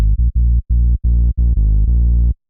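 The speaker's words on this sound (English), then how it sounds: "For low end, I quite like using clean tube, and I'll turn up the drive a bit." A synthesized saw bass run through clean tube saturation with the drive turned up in Saturn 2 plays seven short, loud, buzzy low notes in a choppy rhythm, the final note held longer, with no talk.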